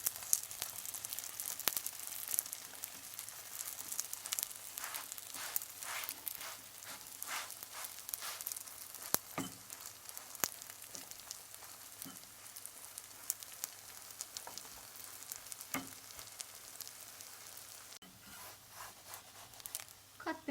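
Katmer flatbread sizzling as it cooks in an oiled pan, a steady, fairly quiet crackle scattered with sharp little pops throughout.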